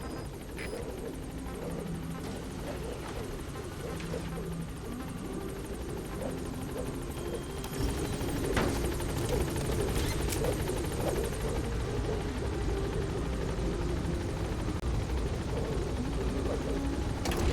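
Helicopter in the Metal Gear Solid V video game, a continuous rotor and engine drone that grows louder midway and holds steady, with brief radio-style voice lines over it.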